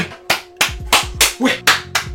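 Six or seven slow, deliberate hand claps ring out close and loud, evenly spaced about a third of a second apart, with a low hum underneath.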